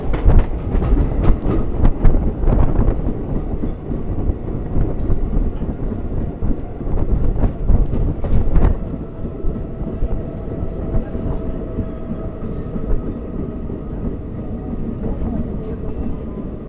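Ratnachal Express passenger train running, giving a continuous close rumble with clattering wheel knocks and wind buffeting, busier in the first half and then steadier, with no clear talking.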